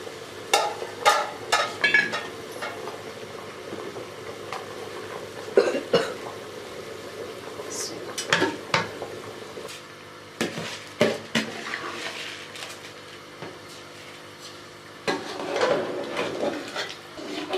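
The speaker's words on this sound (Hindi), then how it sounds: "अब हम इसमें चावल डाल देंगे।" Rice is added to a pot of vegetable biryani and stirred, with irregular scraping and clattering of a spoon against the pot over a low sizzle, and a few coughs in between.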